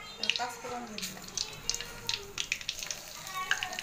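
Whole spices, panch phoron with bay leaf, cardamom and cinnamon, fry in hot oil for a mango pickle, giving a soft, crackly sizzle with small sharp pops and a few utensil clinks close by.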